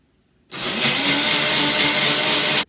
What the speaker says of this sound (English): Put it in my blender.